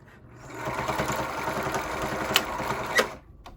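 A sewing machine stitching fabric booties whirs steadily for about three seconds, its rapid needle rhythm close and moderately loud, with a couple of sharp clicks near the end before it stops.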